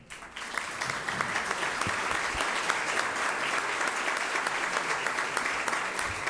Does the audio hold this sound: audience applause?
yes